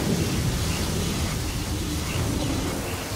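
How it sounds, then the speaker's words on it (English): A thunderstorm with lightning in Gears of War 4, a dense, loud, continuous rumble of thunder and rain filling the scene, with no voices. "Dodge the lightning!"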